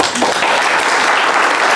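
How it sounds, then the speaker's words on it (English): A short burst of dense audience applause at an evening publishing talk, loud and steady from start to finish. "Let's give a big round of applause."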